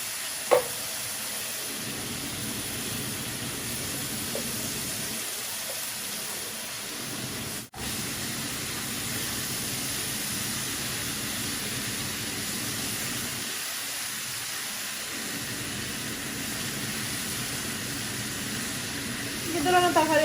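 Radish frying in a pan, a steady soft sizzle and hiss that runs throughout, with low spoon stirring in places.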